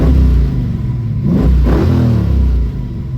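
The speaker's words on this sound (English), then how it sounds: "Listen to the rumble of that stage 2 cam. Let's give her a little rev." A 1966 Ford Mustang with a stage 2 cam, warm from driving, idles with a loud, close rumble, rises in one quick rev, then settles back to a lumpy idle.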